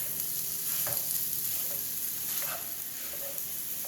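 Ground turkey sizzles loudly in a pan while a meat-chopper gadget breaks it up, the steady frying hiss punctuated by a few soft scraping knocks.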